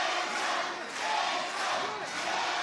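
A pro wrestling crowd roars and shouts encouragement throughout a match, a continuous loud wash of cheering voices with swells and small dips.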